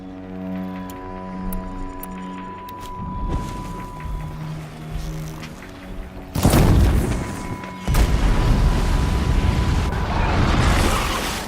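In the Horizon Zero Dawn video game a blaze canister is shot and explodes with a loud boom and rushing roar that swells over steady game music and tones, followed by a second surge of rumbling burst.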